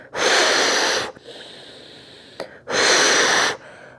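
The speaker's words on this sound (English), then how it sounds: "This is an audible breath, and we'll use it as we move through our flowy practice." Audible yoga breaths during a flowing strength practice: two long, forceful, hissing exhales close up, each about a second, separated by a quieter breathy pause and a brief click, no talking.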